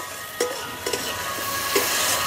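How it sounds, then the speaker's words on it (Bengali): A spice paste for a fish roe curry is fried in oil, with a soft steady sizzle under a few distinct scraping stirs of a spatula against the pan. "মানে মশলাটা ভাজা হয়ে গেছে।"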